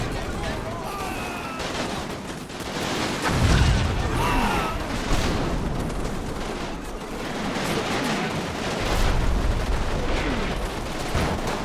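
Continuous battle gunfire in the Combat Mission Battle for Normandy video game, with rattling bursts, booms and scattered shots layered densely throughout at a fairly loud level.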